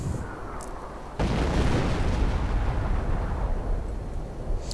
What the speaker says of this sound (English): Artillery going down in the grenadiers.